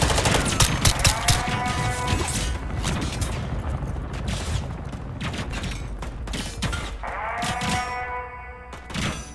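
Sustained gunfire in the Call of Duty Modern Warfare 3 campaign, rapid bursts of shots and loud cracks with mechanical clanks, firing steadily across the whole stretch.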